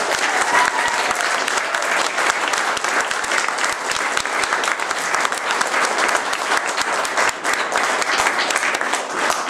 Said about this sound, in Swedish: En applåd för det, tycker jag.